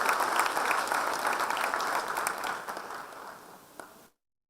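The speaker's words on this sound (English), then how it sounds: "A huge round of applause for the winners." An audience at a badminton championship celebration applauds the winners, a broad continuous clapping that holds strong, then tapers off and stops abruptly near the end.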